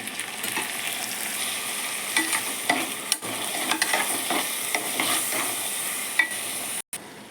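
Chopped tomatoes and onions fry in a pan with crushed ginger and garlic, giving a continuous bright sizzle with occasional stirring scrapes, close up, ending in a brief cutoff.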